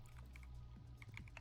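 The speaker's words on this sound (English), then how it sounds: "the keystrokes, and the typing is just kind of like a soothing sound" Quiet, steady clicking of computer keyboard keys being typed, close by, with a low hum underneath.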